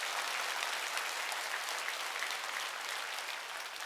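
A church congregation at a Korean worship service breaks into steady, continuous clapping, a moderately loud, even wash of applause filling the room without any voices on top.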